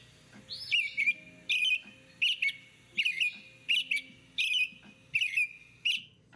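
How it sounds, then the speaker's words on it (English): Robin song played back from a phone bird app: a series of about eight short, bright whistled phrases with brief pauses between, moderately clear over faint background rustle. "that's a robin."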